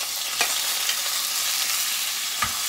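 Tomato and Fresno hot pepper sautéing in a pan for Filipino cooking, a continuous close sizzle with a few brief scraping stir clicks scattered through, no voices.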